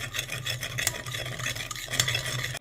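A seasoning mix of pepper, crumbled Maggi star cube and a few pinches of salt is stirred steadily in a bowl, giving a continuous close scraping and rubbing sound with no voices.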